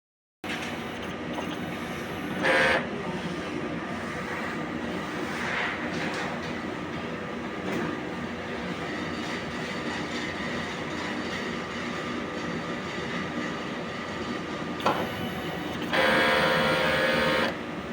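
A large-format 6 ft single-head printer runs a print head cleaning cycle, a steady mechanical whir and hum with brief louder surges near the start and end.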